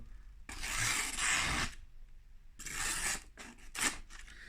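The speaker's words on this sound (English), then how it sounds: "I have just cut through some cardboard with it" A CRKT Pangolin folding knife slices through cardboard in several close, dry rasping strokes: two long cuts followed by a few short quick ones, with quiet gaps between.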